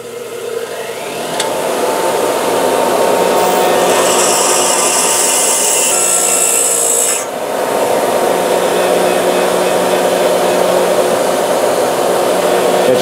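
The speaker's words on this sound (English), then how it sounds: "I'm going to grind this down a little bit because the socket doesn't fit on this" A power grinder works down a metal part on an engine block so a 1/4 inch socket will fit, a steady loud whine and rasp running for several seconds, briefly easing and then resuming.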